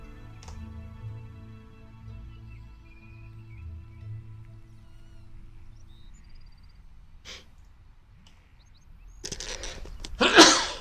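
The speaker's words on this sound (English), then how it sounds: "Big sneeze." A single big human sneeze bursts out loudly near the end after a quiet stretch with faint ticking and breathing.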